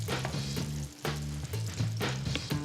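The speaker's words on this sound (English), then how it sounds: "So we're gonna put some pancake batter right into the pan." Pancake batter sizzles in a buttered pan, a dense close frying crackle with repeated scraping or tapping beats over a low hum, no talk.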